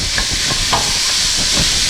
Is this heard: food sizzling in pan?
yes